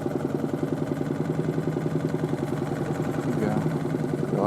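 A motorboat engine drones at an idle-like steady pulse, moderately close, with a faint voice over it.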